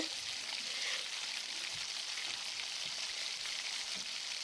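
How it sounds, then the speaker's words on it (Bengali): Pieces of aair fish cooking with tomatoes in spiced oil give off a quiet, even frying hiss throughout, with faint stirring sounds in a pan. "মাছটা এখন আমি ভালো করে নাড়াচাড়া করে নিচ্ছি"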